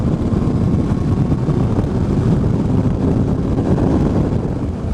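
A Honda CBR650F motorcycle pulls harder while riding on the road, its engine note rising under heavy, constant wind rush that buffets the microphone throughout.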